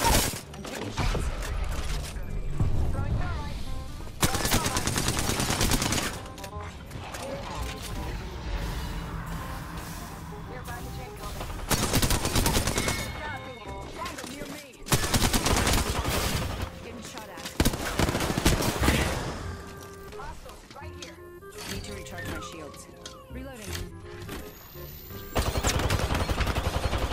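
Heavy gunfire in an Apex Legends firefight, with repeated loud bursts of automatic fire and single shots coming in dense waves, separated by quieter stretches of mechanical clicks and movement.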